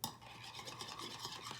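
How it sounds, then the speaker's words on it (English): A spoon stirs a creamy mayonnaise and egg seasoning mixture for ramen in a bowl, making soft, close, rapid scraping and squelching strokes that repeat steadily, faint and alone. "So you mix it all together."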